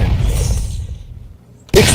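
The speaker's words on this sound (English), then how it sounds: "Explosion." A video game trailer explosion hits abruptly and loudly near the end, after a rumbling stretch that gradually quiets almost to silence.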